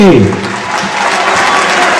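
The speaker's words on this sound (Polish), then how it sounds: "Wielkie brawa." A crowd in a shopping gallery claps for a KMŻ Lublin speedway rider during a team presentation, a short burst of applause under a loudspeaker voice that trails off at the start.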